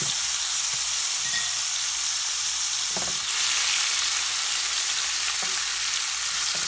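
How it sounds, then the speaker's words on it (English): Shrimp hits hot oil in a pan and sautés with a loud, continuous sizzle and hiss, broken by a few soft clinks of stirring. "Saute the shrimp lightly till they are pink in color"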